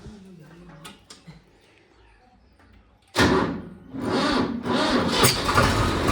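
A Swaraj tractor's engine cranks and catches abruptly, then settles into a loud, steady diesel rumble close by, after a few quiet clicks and handling sounds beforehand.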